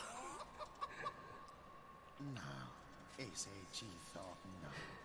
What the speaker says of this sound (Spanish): La gallina dragón, esta rara